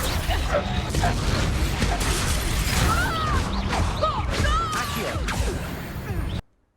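The Reductor spell cast during a Hogwarts Legacy battle against Ashwinders: loud whooshing blasts, crashes and mechanical clatter in a busy fight, with magical swishes ringing out before the sound cuts off abruptly.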